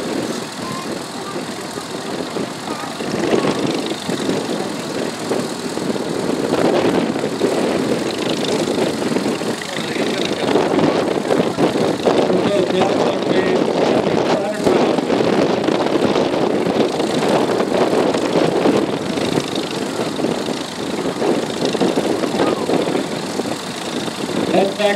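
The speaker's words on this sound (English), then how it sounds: "the 1928 Caterpillar, and it's a 20." A 1928 Caterpillar Twenty crawler tractor runs at an outdoor sled-pulling event in Apache Junction, Arizona, its engine a loud, steady rumbling drone with wind buffeting the microphone throughout.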